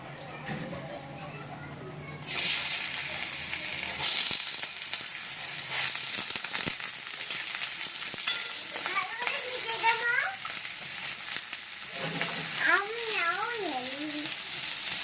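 Potatoes with dried red chilli fry in hot oil in a kadai, a steady sizzle that jumps louder as they go in, overlaid with a few musical tones and sounds.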